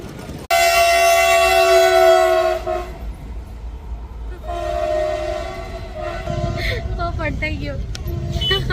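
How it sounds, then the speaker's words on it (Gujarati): At a closed railway crossing a train sounds two long loud horn blasts, then rumbles past, with voices talking over the passing noise near the end. "અમને એમ હતું કે આખી ટ્રેન હશે એની જગ્યાએ નીકળ્યું ખાલી એક ડબ્બો"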